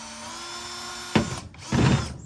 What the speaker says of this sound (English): For drilling, remember, keep it on one, your drill, and you want to go slow.